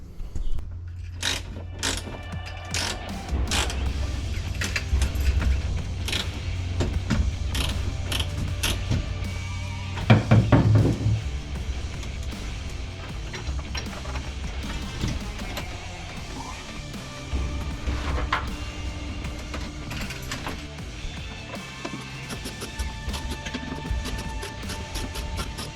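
Steering column being worked loose and pulled from an Allan Moffat barn-find car, with repeated close creaks, metallic clunks and ratcheting knocks over a steady low hum, plus one louder clattering bang near the middle.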